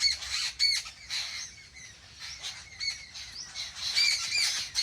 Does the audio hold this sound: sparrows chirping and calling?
yes